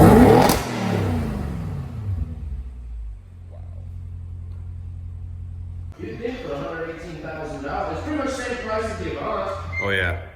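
Audi RS7 fitted with a loud Fi exhaust, valves open, blips hard once up close for a sharp, crackling rev that falls back into a deep rumbling idle, with people talking over the idle afterward.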